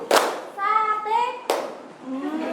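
A group of children in a classroom claps once sharply, then chants together in unison, followed by a second single sharp clap and more chanting.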